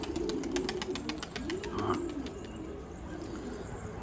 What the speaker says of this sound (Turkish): Bu arada kuşlarımız bir konsun.